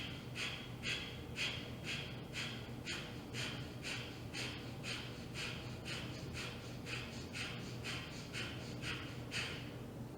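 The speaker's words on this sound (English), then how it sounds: "let's go for our second round of fire's breath" Quick, forceful breaths pushed out through the nose in a steady rhythm during a youth yoga fire-breath exercise, about a dozen sharp exhalations close and clear over a low background hum, with no talking.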